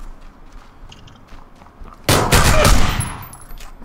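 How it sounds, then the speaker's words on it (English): A single loud, close shotgun blast in the battle royale game PUBG, a sharp burst that decays over about a second after quiet game ambience. "Shot me in the head with a shotgun."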